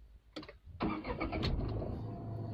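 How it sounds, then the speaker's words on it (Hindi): A Tata Tiago hatchback's engine is cranked and catches, with a short starter burst followed by the engine firing up and settling into a steady, close idle rumble. "अब मैं गाड़ी को फिर से मैं चालू करूँगा"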